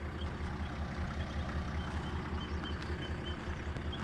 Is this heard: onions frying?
no